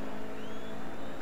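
A race car in Forza, on the Mugello circuit, driven hard; a steady, dense engine roar holds through the short stretch with a faint rising whine above it, with no talk.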